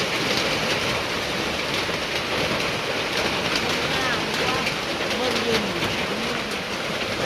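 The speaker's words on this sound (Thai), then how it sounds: "ฝนตกหนัก" Steady, dense downpour of heavy storm rain in Thailand, loud and continuous throughout with no breaks.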